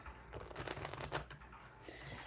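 Tarot cards being shuffled close by, a quick run of riffling flutters followed by a softer shuffle, fairly faint.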